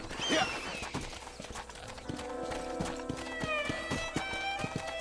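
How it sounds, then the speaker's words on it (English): Horse hooves in a video game clip-clop steadily at a riding pace, up close, with a brief whinny near the start and faint mechanical ambience beneath. "I'll get back on the horse"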